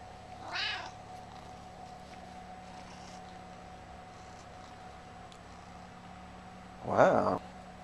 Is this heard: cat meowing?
yes